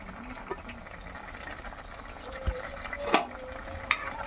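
Egg and potato curry simmering in a pan after green chilies and coriander leaves are added, a soft steady bubbling with a few light clinks and stirring taps, close and fairly quiet.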